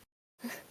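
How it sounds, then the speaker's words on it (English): A single short, quiet sneeze bursts out after a brief silence. "Try not to sneeze into a microphone."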